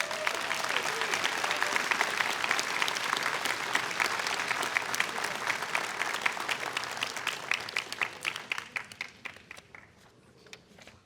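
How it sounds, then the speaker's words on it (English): An audience at a winter graduation ceremony applauds staff with sustained, dense clapping from a large crowd that gradually thins and fades to scattered claps near the end. "let's give them a round of applause."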